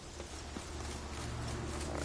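Hooves of Roach, the horse in The Witcher 3, a soft rapid clip-clop of trotting steps heard faintly under a steady background wash of game ambience, brief and continuous.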